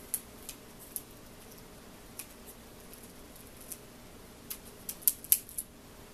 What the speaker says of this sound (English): you're going to want to peel up this sticker around the connection